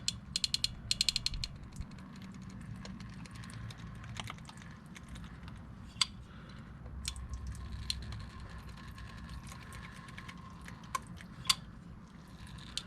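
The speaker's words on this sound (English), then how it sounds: "with my caliper compressor, I'm going to be compressing this piston in all the way until it stops" Caliper compressor pressing the brake piston back into a 2010 Nissan Frontier SE front caliper, heard as a steady run of fine ratcheting clicks in quick bursts, close and quiet, with no speech.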